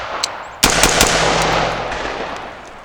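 A pistol with an optic fires three rapid shots from the 5 yard line, sharp loud cracks bunched within half a second, followed by a fading reverberant tail.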